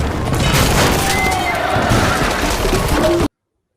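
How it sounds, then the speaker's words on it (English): A black stallion neighs loudly in a dramatic Game of Thrones scene, a single long whinny over a booming, crashing soundtrack, cut off abruptly. "He is a black stallion."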